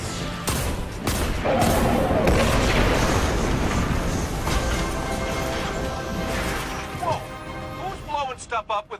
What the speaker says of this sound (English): That blast knocked a few more cell blocks open.